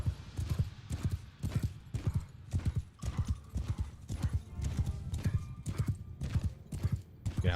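A warhorse in the modded Bannerlord 1.1.2 battle game galloping: close, loud hoof beats in a quick steady rhythm, with a brief whinny partway through.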